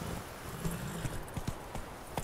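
Roach the horse galloping in The Witcher 3, quick hoof clip-clops in an uneven rhythm over a continuous game ambience.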